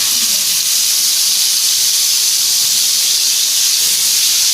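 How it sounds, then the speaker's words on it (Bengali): Fish frying in hot oil in a pan, a loud continuous hiss of sizzling that stays even and unbroken throughout, with no voices. "মাছটা আমি একটু লাল করে ভাজতে হবে"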